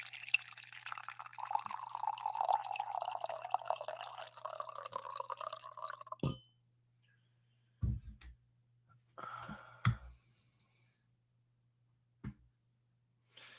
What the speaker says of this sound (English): another coffee pour